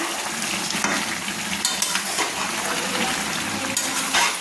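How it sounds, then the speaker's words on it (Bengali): Mutton being stirred in a pan while it cooks down into a thick curry, giving a steady close sizzle with scattered scraping and clinking from the spoon against the pan, and no talk. "একটু নেড়ে নিচ্ছি"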